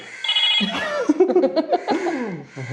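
A landline telephone received as a wedding gift rings with a bright, warbling electronic tone that repeats across the moment, close and fairly loud, with voices and light laughter mixed in.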